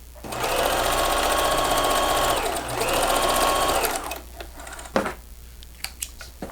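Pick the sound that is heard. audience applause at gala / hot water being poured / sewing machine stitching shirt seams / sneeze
sewing machine stitching shirt seams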